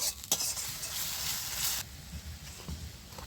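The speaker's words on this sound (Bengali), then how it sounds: "এটাও ভালো করে কষিয়ে নিতে হবে, যতক্ষণ না আদাটা কাঁচা গন্ধ চলে যাচ্ছে ততক্ষণ আমি কষিয়ে নেব।" Ground ginger, cumin and mustard paste being stirred in a hot pan for a vegetarian potato curry, a steady close sizzle with scraping stir strokes that thin out midway.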